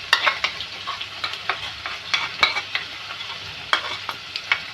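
Masala for chicken bhuna, with softened tomatoes and ground coriander, sizzles in a pan while a spoon stirs and scrapes in repeated close strokes over a steady fry.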